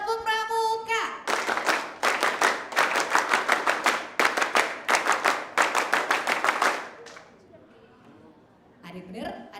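High school students doing the Indonesian scout rhythmic clap, crisp patterned bursts of many hands clapping in unison over several seconds, with a voice briefly speaking before and after.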